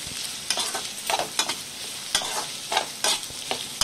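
Onions frying in hot oil for chicken curry, a close sizzle broken by repeated sharp bursts of spatula stirring every half second or so, with no talking.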